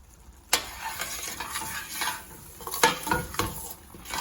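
Tomato cashew curry being stirred in a pan: a spoon scrapes and knocks against the metal in uneven strokes over a low sizzle, close by, with no speech.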